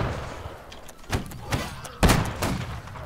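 Gunfire in a video game line battle, several sharp broadband shots cracking out at irregular intervals, the loudest near the end, with faint voices and background game noise underneath.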